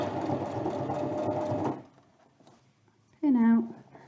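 A sewing machine stitches fabric for a plant pot cover in a steady mechanical run for under two seconds, then stops, followed by a brief voice.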